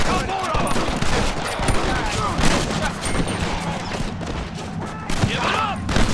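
Dense gunfire rattles through a Red Dead Redemption shootout, loud overlapping rifle and machine-gun bursts and booms packed throughout, with shouting voices mixed in among the shots.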